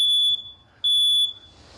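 A house smoke alarm chirps with a low battery: two sharp, piercing high beeps close by, separated by a short pause, with a faint background hum.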